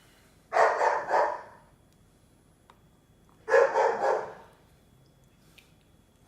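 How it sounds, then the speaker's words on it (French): A dog barks in the background of a kitchen in two separate bursts of several quick barks each, moderately distant, with quiet room tone between them and no talk. "Alors, vous entendez le chien qui est derrière."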